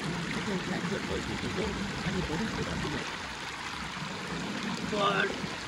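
Clear water flows steadily at a natural pool near Kathmandu, giving a constant close rushing wash with no clear breaks.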